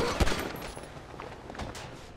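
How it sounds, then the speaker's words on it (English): Gunfire: a loud close shot at the start, followed by scattered fainter shots and distant bursts, with little talking. "Yep, they're still shooting people."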